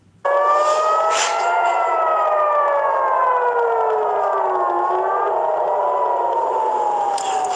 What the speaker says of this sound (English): Those were air raid sirens a short time ago in Tel Aviv